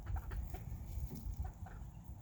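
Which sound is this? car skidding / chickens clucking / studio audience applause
chickens clucking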